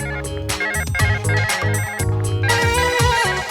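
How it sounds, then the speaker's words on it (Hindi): Loud, close ringtone of an incoming phone call in a Hindi TV drama scene, playing as a bright repeating electronic melody with a steady beat and no voices over it. "सुमन, अरे तुम्हें तुम्हारी सरप्राइज पार्टी में इनवाइट करने के लिए फोन कर रही होगी, उठा लो"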